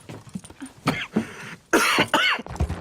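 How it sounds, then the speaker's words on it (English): A Red Dead Redemption character coughing: a run of harsh, chesty coughs and throat clearing in uneven bursts, close and loud, with a heavier fit near the end. "this game has got to have the record for the most coughs recorded into a microphone"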